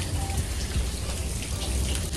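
Steady rain at a resort in Silvassa makes a dense, even hiss and patter with a low rumble underneath, continuous and moderately loud throughout.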